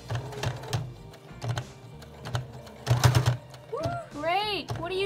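A sewing machine stitching a folded shirt hem in quick bursts of rapid mechanical clatter, close by, with a voice talking over it near the end.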